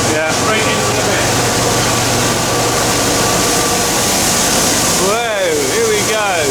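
An oilseed rape seed cleaner runs with a loud, steady machine roar and rushing hiss as seed pours into a bin. It is constant throughout, close, with voices talking briefly near the end.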